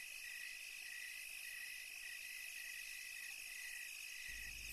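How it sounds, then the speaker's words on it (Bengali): Crickets chirp at night in a steady, continuous high trill, even and unbroken, with a faint low thump at the very end. "ঝিঝি পোকাগুলো সমান তালে ডেকেই চলেছে"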